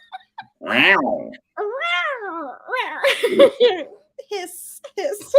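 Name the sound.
voice imitating a scary cat hissing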